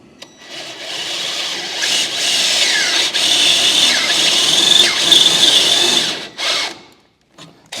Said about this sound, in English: Might be a little harder on the drill bit though.